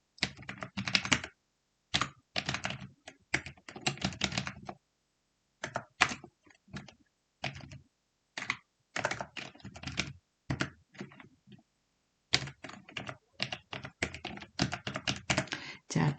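Bursts of typing on a computer keyboard while entering cell data in an Excel spreadsheet, with rapid clustered key clicks separated by short silent pauses.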